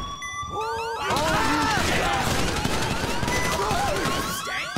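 Rapid, sustained gunfire fills a GTA Online casino heist shootout. Dense bursts and crashing impacts come loud and close for nearly five seconds, with faint game voices mixed in.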